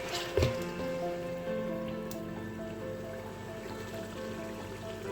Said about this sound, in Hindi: अब मैं इसमें ऐड करने लगी हूँ पानी